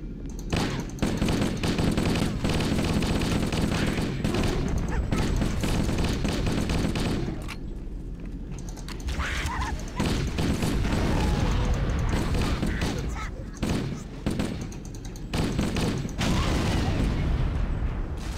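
Rapid automatic gunfire from Halo: Combat Evolved on PC bursts in dense volleys with mechanical clatter, pausing briefly midway before the firing resumes loudly.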